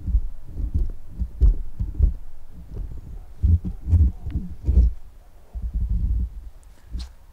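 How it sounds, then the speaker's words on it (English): Handling noise from a boom pole fitted with a plug-on mic and cable comes through as irregular low thumps, rubs and knocks at close range, uneven and bumpy throughout. "handling noise"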